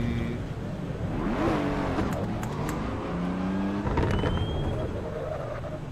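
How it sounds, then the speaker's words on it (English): A race car in the Assetto Corsa EVO racing game revs hard, its engine pitch sweeping up and down through gear changes with crackles from the exhaust, loud and continuous and heard close from inside the car. "The engine rev sounds very similar to me. Crackles from the exhaust."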